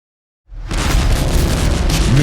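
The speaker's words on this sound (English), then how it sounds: "how it explodes and how the airbag opens" A car airbag exploding and deploying against a watermelon, an abrupt loud burst after a short silence that swells into a long roaring, rumbling blast in slow motion.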